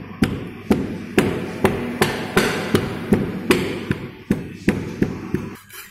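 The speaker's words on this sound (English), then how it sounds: "we are using a round rammer here to ram at the center of the cup, as well as we are going to use the pin rammer to ram at the side edges." Rammers pack foundry sand into a mould cup in a foundry, a round rammer at the centre and a pin rammer at the edges, giving about a dozen sharp, evenly spaced thuds close by with no talk.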